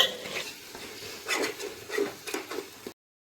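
Chicken pieces mixed with yogurt are stirred in a pot for Hyderabadi dum biryani, a few wet scraping spoon strokes and light metal knocks over a faint sizzle, ending abruptly in silence.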